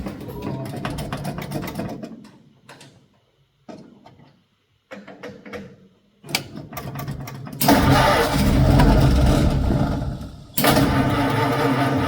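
A 1952 Ford F3 truck engine is cranked on starter fluid, with several bursts of starter grinding and brief catches separated by silences, then it fires into a loud, rough running roar that cuts out and restarts.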